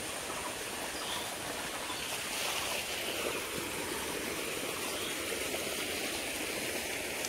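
Water runs steadily as a container fills, a continuous broadband rushing that stays even and moderately loud with no voices throughout.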